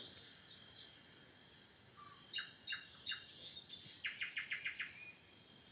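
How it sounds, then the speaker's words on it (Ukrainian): A steady high cicada drone fills the evening background of a village while birds chirp in short bursts, ending in a quick series of rapid tweets. "А поки насолодіться співом вечірніх птахів та цикад."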